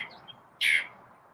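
A pet bird gives a single short, bright chirp, faint and a little distant, over quiet room tone with no talking.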